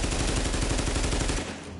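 Rapid automatic gunfire in the video game The Division, a dense, loud burst of repeated shots that cuts off abruptly near the end, heard alone.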